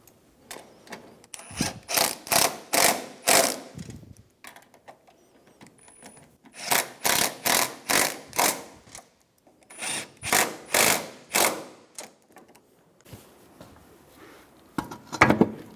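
A hand ratchet tightens the strut assembly nuts on a 2003-2007 Infiniti G35 during a front shock and spring replacement, with three close bursts of rapid clicking separated by pauses.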